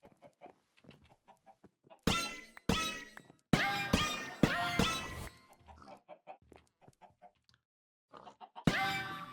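Chickens in the Minecraft video game cluck in several loud, bursty clusters with short gaps between them, alone with no talk.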